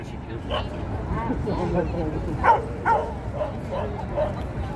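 At a dog run in New York City, several dogs bark and yelp in short, spaced calls, mid-distance, mixed with city background noise while a person talks.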